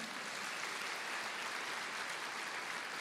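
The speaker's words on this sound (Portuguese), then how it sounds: "vamos aplaudir ao Senhor" A church congregation applauds during a Portuguese-language worship service, a dense, steady wash of many hands clapping at once, fairly loud and unbroken for the whole stretch with no voices standing out.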